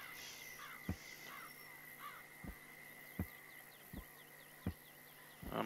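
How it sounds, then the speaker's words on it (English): A bird in the Florida Everglades setting of a Live Fishing PC game gives repeated sharp, crow-like caws spaced about a second apart over a steady hum and insect-like chirps, moderately loud, with no talking. "that crazy bird that sits out here all day long, you know, making noise."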